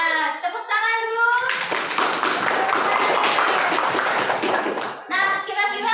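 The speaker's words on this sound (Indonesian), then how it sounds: "tepuk tangan dulu" A classroom of children bursts into lively applause for several seconds, the clapping close and full, with young voices speaking just before and after it.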